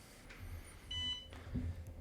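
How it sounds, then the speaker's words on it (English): A Chessnut electronic chess board powering on gives a faint, thin electronic beep tone, short and quiet against a soft room background. "I've set my board to make beeping sounds so that I know what's going on"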